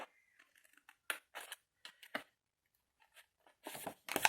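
Scissors cutting paper while making a large document folder, a few quick snips and crunchy cuts separated by short pauses, close and fairly quiet.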